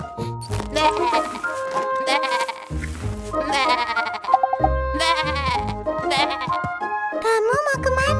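Cartoon-style sheep bleats, several wavering calls in a row, mixed with bright musical tones and other sound effects, loud and close throughout.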